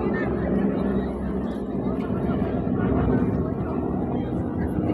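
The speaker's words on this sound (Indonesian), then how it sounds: "Ada helikopter itu." A low, steady helicopter rumble drones overhead throughout at a Hong Kong waterfront park after rain, with people talking faintly in the background.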